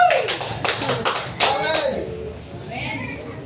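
Congregation clapping in a church service, a burst of rapid claps over the first two seconds that fades and thins out, with some voices mixed in.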